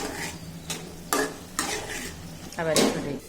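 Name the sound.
stirring bitter gourd and potato curry in a covered pot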